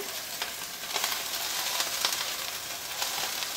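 Destemmed kale hits a hot pan and sizzles steadily, a close, continuous frying hiss with a few sharper crackles and no talk.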